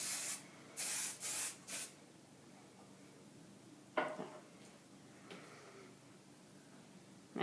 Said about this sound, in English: Spray it. Tease it really good.